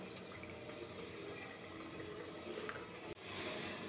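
Whey being twisted and squeezed out of freshly made chhena wrapped in a cloth, a faint, steady trickle and patter of liquid falling for several seconds with a soft knock near the end.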